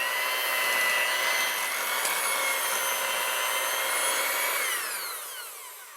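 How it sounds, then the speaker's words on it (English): Cream cheese, flour and sugar beaten until smooth with an electric mixer, a steady high whirring motor hum held for several seconds before winding down at the end, close and loud, no talking. "So we're going to stir that, beat it until it's smooth, get that sugar incorporated in there really good."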